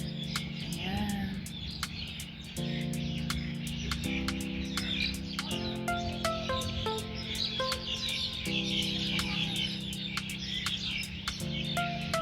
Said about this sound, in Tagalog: Naririnig nyo yung mga huli ng ibon.